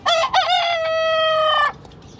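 A single hen near a laid egg gives one loud, drawn-out, close call of under two seconds that rises and then holds steady before stopping, with quiet surroundings after it.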